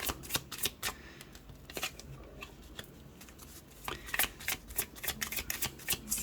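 Tarot cards riffled and shuffled in quick irregular bursts of crisp papery flicks, close and fairly quiet, with no talking.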